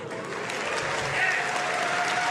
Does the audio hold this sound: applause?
yes